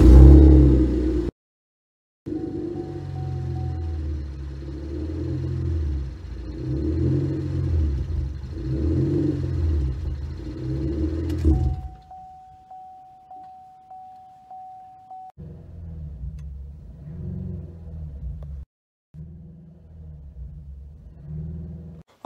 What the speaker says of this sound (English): I'm gonna get in the car, start it up, and see how she rolls.